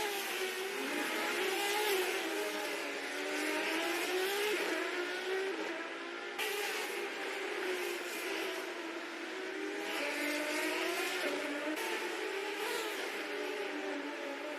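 Race cars in a virtual racing video game scream past with rising and falling engine pitch, repeated gear changes and thin, tinny tone, heard alone at moderate volume.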